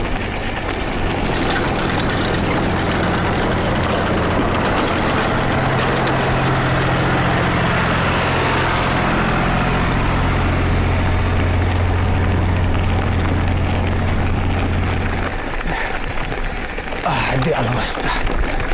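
Tractor engine labouring up a hill: a loud, continuous low drone with a steady pitched hum that drops away near the end, overlaid with wind or road rumble.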